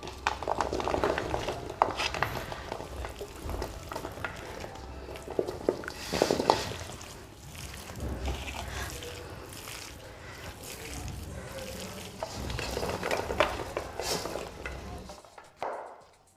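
Mango pickle ingredients are mixed together in a bowl, with continuous close scraping, squelching and light clinking of a spoon against the vessel.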